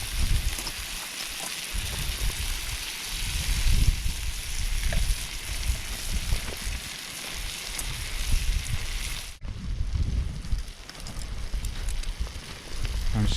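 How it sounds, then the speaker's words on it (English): Steak frying with butter and mushrooms in a pan on a Trangia camping stove outdoors gives a steady, close sizzle that crackles continuously throughout, with no talk. "the steak's nearly done. I've got a little bit of butter and some mushrooms"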